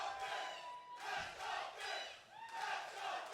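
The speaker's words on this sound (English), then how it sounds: "The Let's Go Fins chant I love it." Stadium crowd at an NFL draft chanting "Let's Go Fins" for the Miami Dolphins pick, a loud, dense roar rising and falling in rhythmic waves of massed voices.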